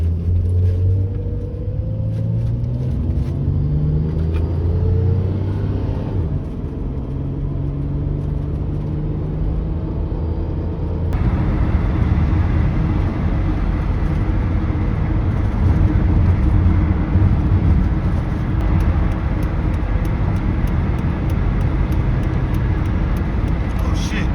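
A Honda Prelude engine runs steadily with a smooth low rumble, rising through gear changes and then settling into a louder constant drone while driving, with someone talking over it.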